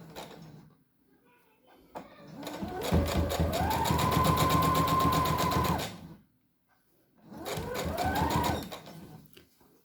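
A sewing machine stitches right along the edge of fabric strips for a paintbrush roll holder, running loud and close in one long burst, then pausing before a second, shorter run for the backstitch.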